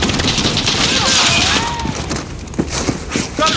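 A machine gun nest fires from a ship's upper deck in a Call of Duty mission. A loud, continuous fusillade with sharp impacts and crashes keeps going under shouted squad voices.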